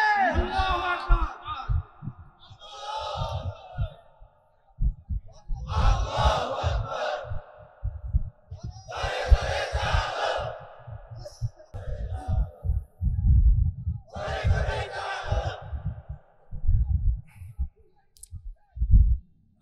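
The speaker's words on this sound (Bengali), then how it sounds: "তাকবীর দাও না রে ভাই।" A crowd at an outdoor religious gathering chants the takbir in repeated loud call-and-response bursts, separated by pauses, over a heavy rhythmic booming from the sound system.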